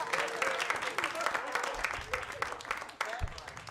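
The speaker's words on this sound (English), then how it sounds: "Keep that applause going for serving in the military." A comedy show crowd keeps clapping for a comedian who served in the military, moderately quiet scattered applause with a host's voice talking over it.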